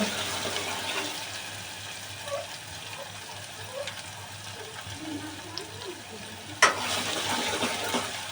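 Shrimp and gathiya sizzle in hot oil in a pan for a curry, a low steady crackling hiss with faint ticks and one sharp clatter near the end.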